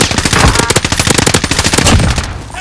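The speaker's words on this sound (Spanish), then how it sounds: "Me disparan de otro lado." A rapid, close machine-gun burst in Modern Warfare, evenly spaced loud shots hammering for about two seconds before cutting off.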